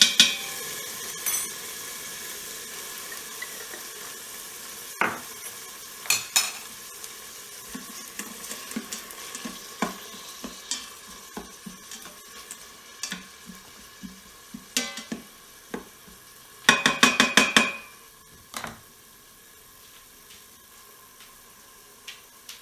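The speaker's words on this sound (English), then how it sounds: "We'll let that cook down for like 1 minute." Turkey necks with added juice sizzle in a pot, a steady crackling fry with scattered sharp pops and occasional utensil clinks, including a brief louder clatter near the end.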